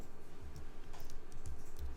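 Typing on a computer keyboard during work in InDesign: soft, quick irregular key clicks, faint and close, with no voices.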